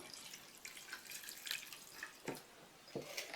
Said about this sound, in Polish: Kapustę zalewam wodą.